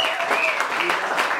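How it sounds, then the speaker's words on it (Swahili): A church congregation at a Sunday service applauds, a brief burst of dense clapping that is moderately loud and mixed with voices. "Hebu tupatie Yesu sadaka ya makofi."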